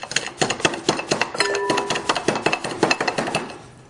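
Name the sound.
crushing coriander seeds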